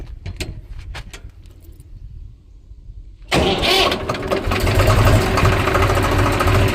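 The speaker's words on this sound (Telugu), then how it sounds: "బండి స్టార్ట్ చేసినాను." A motorcycle is started after some light clicking and handling noises, then the engine catches and settles into a loud, steady, close-up idle that carries on to the end.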